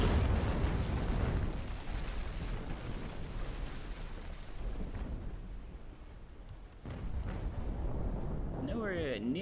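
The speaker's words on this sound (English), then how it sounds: "Get to see what a full broadside from us can do." Cannon fire from a full ship's broadside in the naval battle game Naval Action rolls out as a dense, heavy rumble of booming blasts that swells and sustains for several seconds before easing into quieter crackling.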